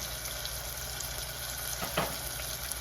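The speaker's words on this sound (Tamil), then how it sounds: "வெந்தயம் இதெல்லாம் நல்லா தாளித்து விடட்டும்." Mustard, cumin, fennel and fenugreek seeds sizzling in hot oil as a tempering, giving a steady, close crackling hiss that runs the whole time with a slightly louder pop partway through. Nobody speaks.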